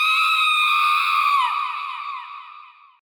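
A woman's anguished, high-pitched scream used as a ghost-story sound effect, one long sustained wail that wavers, then trails off and fades into silence, heard alone.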